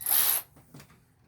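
A Ryobi power tool working on the water pump of a 2010–2015 Toyota Prius, heard as one short loud whirring burst, followed by a faint mechanical click.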